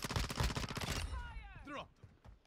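Rapid bursts of gunfire from a Modern Warfare 2 multiplayer match fill the first second, close and loud, then give way to a game announcer voice and fainter sounds.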